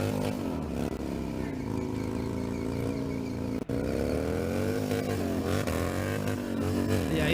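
Motorcycles ride and rev at a Harley-Davidson BikeFest contest at Red Rock, a green bike among them, giving a loud continuous engine drone with rising and falling revs and commentary voices over it.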